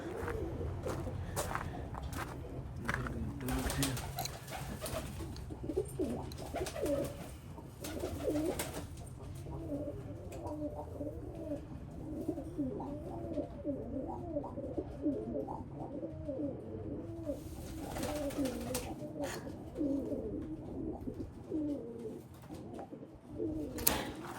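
A flock of pigeons in a loft coo and warble repeatedly, up close and fairly soft, with occasional flutters and footstep-like shuffles in between.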